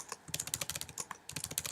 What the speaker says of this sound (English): okay, and I just keep typing